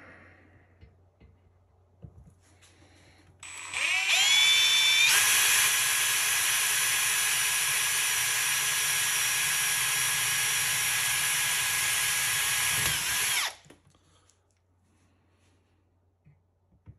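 A power drill bores holes for installing an insulated door on a KAON Marine Travel Buddy 12V oven, running as one steady, loud, high-pitched whine for about ten seconds, with quiet room sound before and after.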